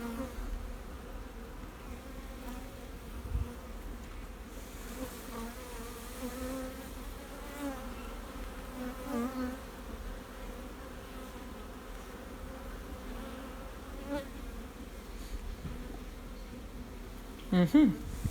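A dense hum of honey bees buzzing steadily up close around a hive frame, many insects droning together, with a few brief handling knocks and faint breathy puffs blown onto the bees.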